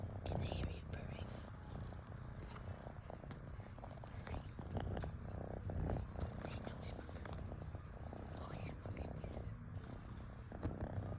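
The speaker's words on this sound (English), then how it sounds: "here's purring" A cat purrs softly and steadily in a low, rhythmic rumble, close by, with faint whispering voices over it.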